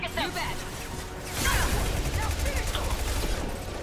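Gunfire in the video game Mass Effect 2: a rapid, loud fusillade of shots with a sharp burst about midway, heard under a speaking voice and game sounds.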